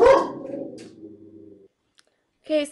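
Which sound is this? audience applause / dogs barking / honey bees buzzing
dogs barking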